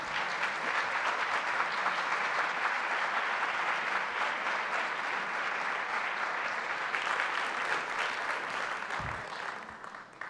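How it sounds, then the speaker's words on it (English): Sustained audience applause after a keynote address at a European employment and social conference, dense and steady for about ten seconds before thinning at the end. "An applause one more time, please."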